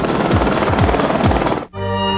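A Chopper 6 news helicopter beats in a fast, steady rotor throb up close, then cuts abruptly into a different sustained tonal sound.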